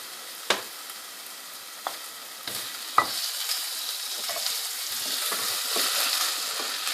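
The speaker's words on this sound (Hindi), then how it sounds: "ये अदरक लहसुन मुकम्मल तौर पे भून चुका है" Ginger and garlic frying in butter, a steady soft sizzle broken by a few sharp stirring scrapes and taps, close and without speech.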